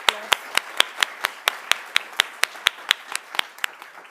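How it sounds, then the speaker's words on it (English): Applause at a students' union awards ceremony, crisp individual hand claps in a steady rhythm of roughly four per second, close and clear with a quiet room behind, no talking. "Let's give her a round of applause."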